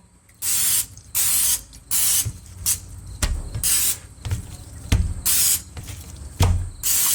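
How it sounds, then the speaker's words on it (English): Olive oil is sprayed onto raw steaks before searing: several short, close, hissing bursts of an oil spray with quiet gaps between them and faint handling knocks. "Let's hit them with a little olive oil."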